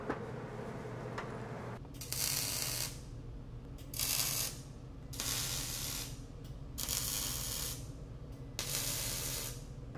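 Five short, loud crackling hisses of welding, each about a second long with brief pauses between, as slots on a steel welding table are tack welded.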